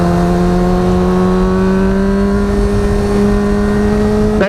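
Motorcycle engine on Dunlop Sportmax Q3+ tyres holding a steady, loud, close drone under a constant throttle, with rising harmonic tones and a sharp shift near the end.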